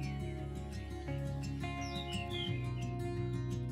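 A tledekan bird sings short, bright chirps and tweets that rise above a loud, steady musical backing with sustained low tones, the calls fairly faint and intermittent.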